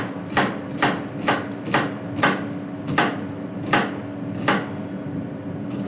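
A knife chopping onions on a board for a fish pie, about a dozen crisp, evenly spaced cuts at a steady rhythm, close and clear with no talk.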